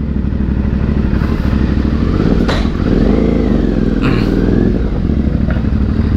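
A modified Yamaha Byson motorcycle ridden at midnight on wet roads after rain, its engine droning steadily close by with a couple of brief rev swells and some clatter, no talking.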